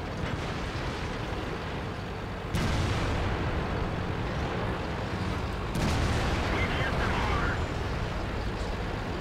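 Tank cannon fire in World of Tanks, two heavy booming shots several seconds apart in a noisy battle soundscape, with someone talking over it.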